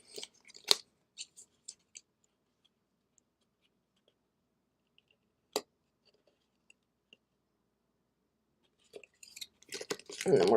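Scissors trim excess cardstock from a lip-shaped paper box, giving a few sharp snips near the start and one isolated cut midway, then a cluster of crisp paper rustles and handling at the end, close up amid long quiet gaps.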